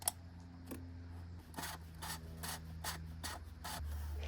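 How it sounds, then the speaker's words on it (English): A plastic oil filter being screwed in by hand during a car oil change, giving a series of soft, evenly spaced rasping scrapes close up, with a low steady hum beneath. "Line up the filter and screw it in by hand."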